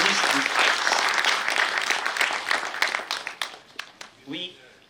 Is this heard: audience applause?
yes